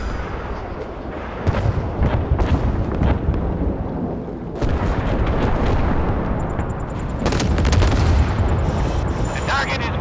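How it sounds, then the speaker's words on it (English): Missile launches and impacts in the naval battle game Force of Warships: heavy booming blasts and rumbling detonations in quick succession, loud and continuous, with game voice lines spoken over them. "Missiles launched. I see a hit on the target."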